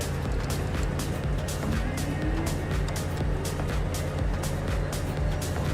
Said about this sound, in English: Hear that starter really putting pressure on the external power.